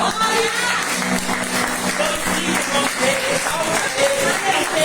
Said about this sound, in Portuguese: Ainda salva de palmas.